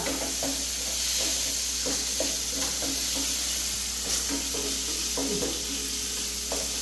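Beef and koorka fry steadily in a pan with a continuous close sizzle, broken by irregular stirring scrapes and soft clatters throughout.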